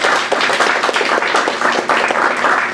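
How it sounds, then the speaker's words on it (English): An audience at a dementia talk gives the panelists a round of applause, with dense, steady clapping from many hands close by and no talking. "Can I have a quick round of applause for my wonderful panelists here?"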